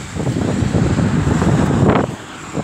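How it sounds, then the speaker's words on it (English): Wind buffets a microphone outdoors on a walk beside traffic, a steady low rumbling roar lasting throughout and dropping off just before the end. "Again, I'm sorry about the wind."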